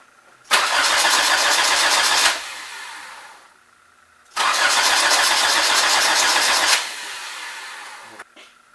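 Two cranking bursts from a Nissan GA16DET turbo engine, each roughly two seconds long and separated by a short pause, loud and close, with a brief tail of engine noise after each attempt.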